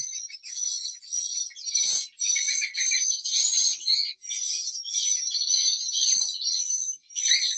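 A loud, continuous chorus of high-pitched twittering swiftlet calls, echoing inside a swiftlet house, with brief pauses and no speech.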